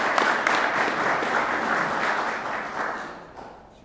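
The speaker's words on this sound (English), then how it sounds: "Could we get another round of applause for Cepeda?" An audience applauds at a Kentucky manufacturing partnership event, with dense, steady clapping from a crowd close by that fades out toward the end.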